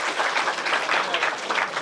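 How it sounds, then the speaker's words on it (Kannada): Audience clapping at a lecture on women scientists, a dense, loud, even burst of applause from a hall full of people, lasting under two seconds with no talk. "ದಯವಿಟ್ಟು ಚಪ್ಪಾಳೆ"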